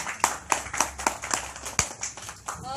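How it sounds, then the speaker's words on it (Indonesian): Audience at a novel discussion event gives a brief round of applause for the author, sounding as thin, evenly spaced claps from only a few hands, fairly close and moderately quiet. "Tepuk tangan buat Mbak Rumi dong"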